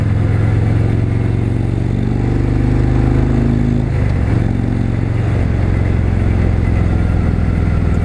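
A 2017 Harley-Davidson Road Glide Ultra's big engine runs loud and close in a steady low rumble with a lumpy throb, easing slightly midway before settling back to an even drone, with no talking.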